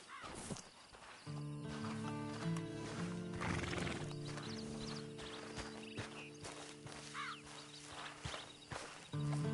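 A horse whinnies loudly up close in the video game Red Dead Redemption 2, hooves clip-clopping steadily beneath, with faint birds in the background.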